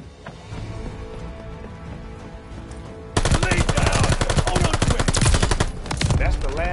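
Rapid automatic gunfire in an online shooter video game, dense bursts erupting loudly after a quieter opening stretch and continuing without letup to the end.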